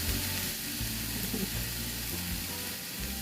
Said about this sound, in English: now you got a chance to hear that sizzle on them vegetables